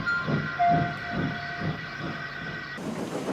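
Steam train pulling out of a station: rhythmic chuffing puffs of steam, about five beats in three seconds, with a brief whistle-like tone, close and moderately loud, ending in a hiss.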